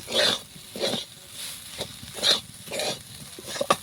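Mung dal kachori filling is stirred and fried in a pan, with a spoon scraping in regular strokes about twice a second over a faint sizzle, close and fairly quiet.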